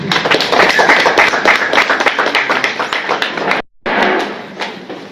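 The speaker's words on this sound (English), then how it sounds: "Let's give them some applause" Crowd clapping at a youth program launch event in Tanzania, loud and dense at first, thinning toward the end with a brief gap, some scattered voices underneath.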